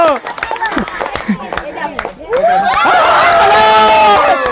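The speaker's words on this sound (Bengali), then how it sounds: "হাততালি" An audience at a steel ball game show claps in a burst of quick, sharp hand claps that swells into a dense, sustained round of applause, heard under someone talking excitedly.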